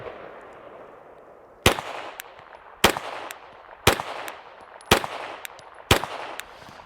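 Pistol fired with an Olight Osight red dot for a five-shot group: five sharp, loud gunshots spaced about a second apart over steady outdoor background noise, with no talking.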